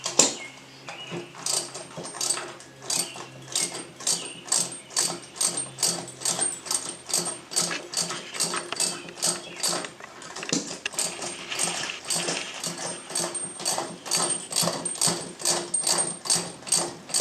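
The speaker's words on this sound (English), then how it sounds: "what I'm going to do is come around with a ratchet and socket" A hand ratchet with a socket tightening an eye bolt into an old tire for a home gym build: sharp, rhythmic clicking strokes repeated steadily for about seventeen seconds, close by, with a short pause midway and no talking.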